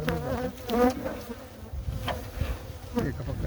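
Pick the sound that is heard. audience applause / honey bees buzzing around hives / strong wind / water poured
honey bees buzzing around hives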